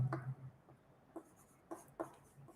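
Pen or chalk writing by hand during a geometry lesson, soft short scratchy strokes in an irregular rhythm, faint and close, with no talk.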